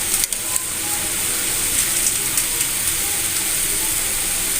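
Spices sizzle in a hot pan while cabbage chicken roll filling is roasted with salt, chilli, coriander powder and black pepper, a steady close hiss with faint scraping clicks throughout.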